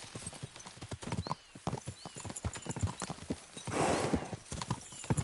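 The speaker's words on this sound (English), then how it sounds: "We should spur the horses on." Horses gallop in the video game Kingdom Come Deliverance 2, with rapid, uneven hoofbeats close by, a burst of rustling scrape midway and no talking.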